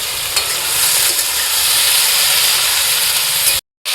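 Chopped tomatoes sizzle in a hot pan with eggplant, a steady loud frying hiss with faint stirring, broken by a brief cut near the end.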